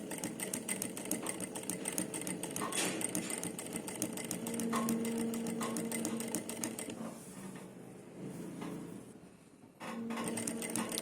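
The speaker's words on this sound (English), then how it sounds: "So I'm going to make 1/4 inch stitching here." A sewing machine runs steadily while stitching a 1/4 inch seam along the fabric edge, with a fast rhythmic whir that eases and dips briefly near the end before resuming.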